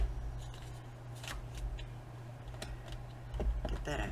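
Scissors snip through a thin strip of paper in a few quick crisp cuts with light paper rustling, close and fairly quiet, over a low steady hum.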